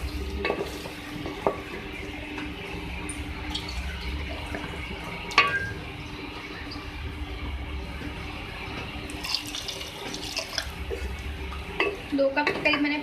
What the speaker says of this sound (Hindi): इसमें मैं वाटर ऐड कर रही हूँ आज गलने के लिए